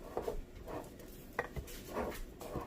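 Sourdough starter is stirred in a container on day two of feeding, giving soft scraping and clinking of a utensil against the sides in a few short quiet strokes, close by with no talk.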